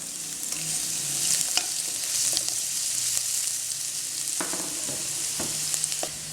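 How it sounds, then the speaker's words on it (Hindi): Chopped garlic sizzles steadily in two tablespoons of hot oil in a cooking pot, a continuous close frying hiss with occasional sharp clicks and stirring knocks, no voices. "लहसुन को जो चॉप किया था वो इसमें डालिए इसी आग के साथ"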